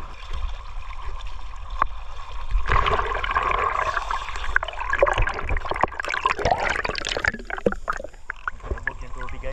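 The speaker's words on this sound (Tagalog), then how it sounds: "Lakas ang agos dito tol oh." Strong current of the Agos river in Infanta, Quezon, a continuous rushing wash of water close by, with splashes and surges building through the middle and faint voices mixed in.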